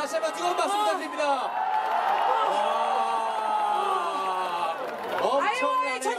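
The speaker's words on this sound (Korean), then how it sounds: "정말 여러분 다시 한번 뜨거운 박수 부탁드립니다." A crowd at an outdoor guerrilla concert for a K-pop group claps and cheers, with high screaming and whooping voices swelling loudly over a continuous wash of applause and chatter.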